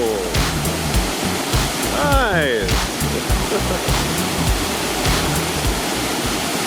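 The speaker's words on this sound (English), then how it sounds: "You can already hear running water, so we'll find the waterfall soon." Steady roar of rushing water near Kakabeka Falls outside Thunder Bay, Ontario, a broad continuous wash that fills the whole clip, with a brief spoken word and a passing tonal chirp partway through.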